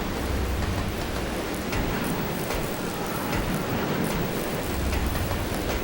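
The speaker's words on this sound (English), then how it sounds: "See, you see this fucking rain just pissing down." Dense, steady hiss of heavy rain pouring down in the video game Resident Evil 0 HD, constant and loud throughout with no voices.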